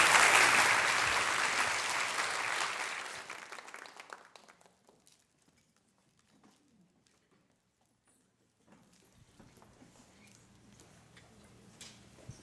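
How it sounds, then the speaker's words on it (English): Audience applause at the Be Bold Now Seattle 2023 show, a loud dense burst of clapping that fades out after about four seconds, leaving near silence and then faint scattered room noise. "Round of applause."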